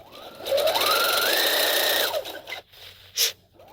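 A sewing machine stitching a shirt in flat construction runs in one continuous close whirring burst of about a second and a half, then stops, followed by a few soft handling clicks and a short rustle.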